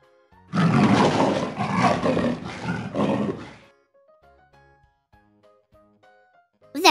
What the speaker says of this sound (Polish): Lew.